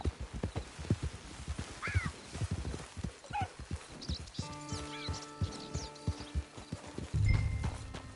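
Horse hooves clip-clop near a camp in a steady, close series of hoofbeats, with a whinny partway through and a tonal hum joining later.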